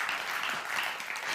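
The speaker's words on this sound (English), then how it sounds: "you can clap for that." Congregation applauding during a church sermon, a brief, steady burst of many hands clapping at moderate volume.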